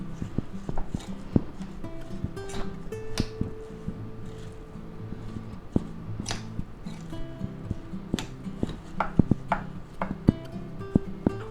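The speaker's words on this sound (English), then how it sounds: "now let's take a spoon and we'll mix that up" A spoon stirring canned chicken patty mixture with a cracked egg in a bowl, with repeated close scraping and knocking taps and a steady clatter across the mix.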